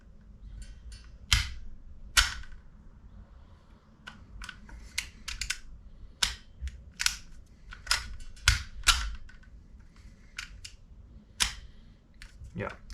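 Kythera airsoft gun charging handle being pulled back and released, a series of sharp, close mechanical clicks and snaps scattered irregularly, with a couple of louder clacks and a quiet low hum underneath.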